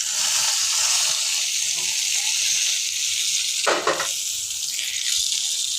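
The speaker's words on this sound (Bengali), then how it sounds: "এইখানে আমি এই যে পেঁয়াজগুলো দিয়া ভেজে নেব।" Onions frying in a pan, a steady loud sizzling hiss with a brief burst of stirring partway through, and no voices.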